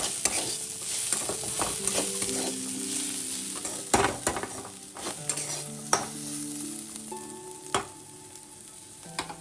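Onions and sambar spice frying over a low flame for poha keep up a soft continuous sizzle, punctuated by sharp spatula clicks and scrapes against the pan at irregular intervals, heard up close without speech.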